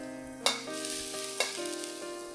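Minced ginger and garlic sizzle in hot oil with a bright, steady hiss, broken by two sharp clinks of a utensil against the pan, close and alone over faint background music.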